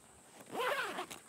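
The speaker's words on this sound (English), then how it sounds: "You've got a zip on either side," A zip on the side of a caravan window awning on a 2018 Savannah X, one short close rasping pull with no voices over it.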